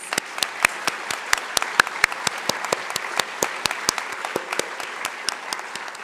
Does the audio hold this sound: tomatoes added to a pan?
no